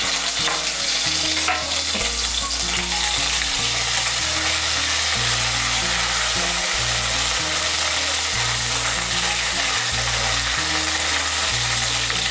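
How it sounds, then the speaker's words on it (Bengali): Ginger paste frying in hot oil in a pan for a Bengali niramish labra mixed-vegetable dish, a steady close sizzle running the whole time beneath a low, rhythmic musical backing. "আদা বাটাটাকে মিশিয়ে নেব তেলের সঙ্গে, মিশিয়ে নিয়ে আদা বাটাটাকে একটু ভেজে নেব"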